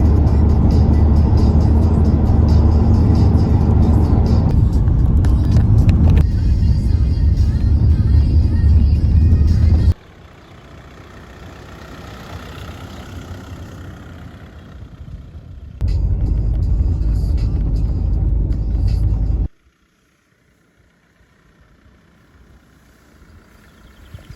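Car engine rumbling loud and steady from inside while driving toward a river for a spring fishing trip, dropping to a quieter hum midway, surging again briefly, then going quiet as the car stops.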